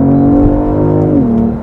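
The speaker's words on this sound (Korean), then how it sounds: "가속을 또 살짝 해보면" A Genesis G80 Sport accelerates on a morning commute, giving a close, steady, humming engine drone whose pitch dips slightly near the end of a short burst.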